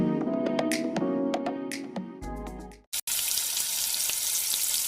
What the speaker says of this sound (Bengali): গরম তেলের মধ্যে ছুঁড়ে ফেলে লাল লাল করে ভেজে নেওয়া হলো